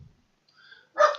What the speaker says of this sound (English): I don't know what the dogs are barking at.